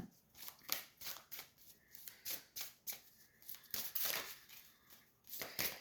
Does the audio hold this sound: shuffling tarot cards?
yes